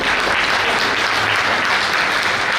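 An audience claps for a team that has just come up on stage to present, a dense, loud burst of applause that carries steadily without a break.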